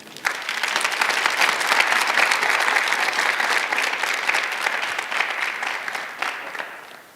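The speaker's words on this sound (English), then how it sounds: "Clap for yourself." A congregation at a live church youth service breaks into loud, dense applause that swells quickly, holds steady for several seconds, then tapers off.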